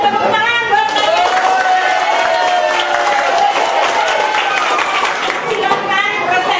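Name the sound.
applause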